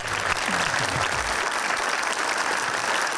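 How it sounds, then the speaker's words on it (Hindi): Studio audience on a Pakistani entertainment talk show claps steadily and loudly for the full stretch, a dense continuous applause with faint voices briefly underneath at the start. "तालियां"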